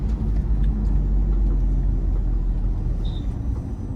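A Ford Endeavour with a 3.0-litre engine accelerating on the road, heard from inside as a steady low engine drone with road rumble that holds loud throughout.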